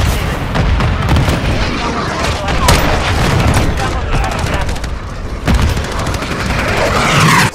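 A Semtex grenade goes off amid Call of Duty MW3 combat, buried in a loud, constant wash of gunfire and booming blasts, with voices talking over the noise.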